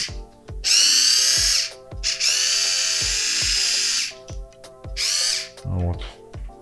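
The Xiaomi Circle Joy electric wine opener's small motor whirs in loud, close bursts, starting and stopping several times with brief clicks between runs.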